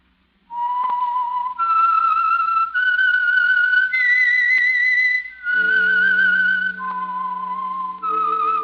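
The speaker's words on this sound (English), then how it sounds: "That whistle is your signal for the Signal Oil program, The Whistler" A lone whistler carries the eerie signal theme of The Whistler radio program, a clear, pure melody stepping up and down in pitch for several seconds, joined near the end by a low sustained orchestral note.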